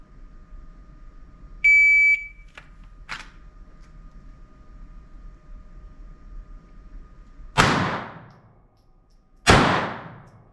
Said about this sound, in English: you'll hear the beep and the course of fire will start